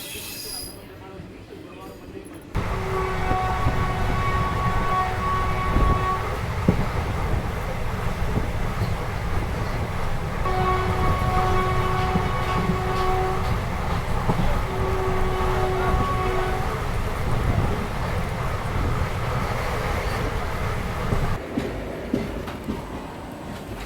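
Train 17291 Narsapur-Tiruvannamalai rolls into Kaikaluru station platform 2 on its inaugural run, with a steady heavy rumble, rattling wheels and brief high squeals. Someone talks over the noise throughout.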